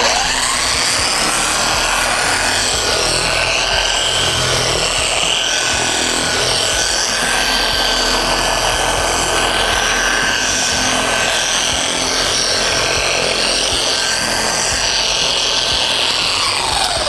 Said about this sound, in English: bring my speed up, then finish polishing out this fender